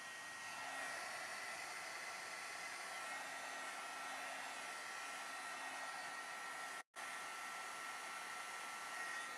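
A handheld hair dryer blows steadily at close range to dry wet watercolor paint on an embossed craft piece, a continuous airy roar broken once by a brief cutoff before it resumes.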